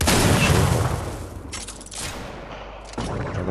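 Fortnite Battle Royale gunfire, a loud burst of rapid shots and booms up front, then quieter bursts and sharp reports trailing after.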